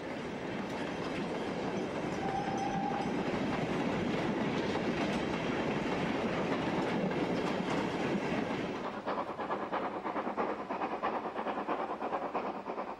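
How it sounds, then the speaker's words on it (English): A heavy three-cylinder steam freight locomotive labors steadily on a climb with a dense, rumbling roar and rhythmic three-cylinder chuffing, easing slightly toward the end; no voices. "That distinctive three-cylinder beat is the sound of another heavy freight engine"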